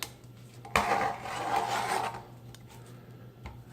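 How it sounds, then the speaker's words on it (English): Back of a chef knife scraping charred skin off a grilled hatch pepper, a rough rasping scrape that starts with a sharp contact and fades out over about a second and a half, close up. "I'm going to scrape off the skin."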